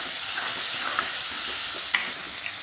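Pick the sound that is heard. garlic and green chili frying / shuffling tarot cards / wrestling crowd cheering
garlic and green chili frying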